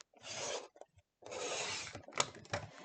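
Dark green cardstock is cut into quarter-inch strips from the 12-inch sides, giving close, soft rasping bursts: one short stroke, a pause, then a longer stroke followed by quick clicks and scrapes.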